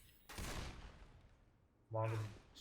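Gunfire in the zombie shooter Left 4 Dead 2: two short bursts of loud shots, the first a crackling volley and the second a sharper, heavier burst, separated by a quieter gap, with a voice faintly present.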